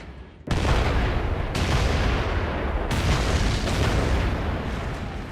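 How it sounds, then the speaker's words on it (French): Deep, booming blasts from 400 mm railway artillery guns firing 900 kg shells, with heavy rumbling roar, a fresh loud report landing every second or so over a continuous thundering background. "Des canons sur voie ferrée d'un calibre inouï de 400 mm qui tirent des obus de 900 kg."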